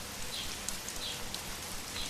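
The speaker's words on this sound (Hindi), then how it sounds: "अपने घर के अंदर बैठी चीची बारिश के मजे ले रही थी।" Steady rain in a Hindi bird cartoon, a constant hiss of falling water with scattered raindrop ticks and small splashes, even and close, with no voices.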